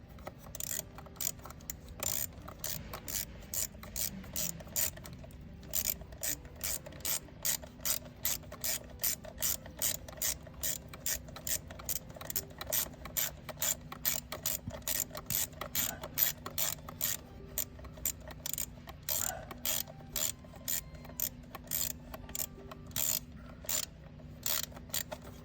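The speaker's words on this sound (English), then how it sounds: "Tightening up those 8 millimeters that are holding on the fuel rail." A hand ratchet tightens 8 mm bolts holding the fuel rail on a GMC Yukon, giving quick, crisp clicking bursts in a steady back-and-forth rhythm across the whole stretch, close and clear with no talking.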